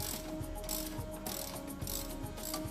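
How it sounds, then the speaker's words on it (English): A ratchet wrench clicks steadily while loosening the bolt of a sway bar end link on the front suspension of a Porsche Cayenne, VW Touareg or Audi Q7, with close, rhythmic pawl clicks and a constant mechanical hum and no talk. "Remove the sway bar end link to the shock mounting bolt."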